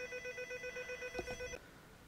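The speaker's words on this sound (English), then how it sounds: "Telephone is ringing." A telephone rings indoors with a bright electronic warble: rapid repeating pulses for about a second and a half, then it cuts off, leaving a quiet room with no talking.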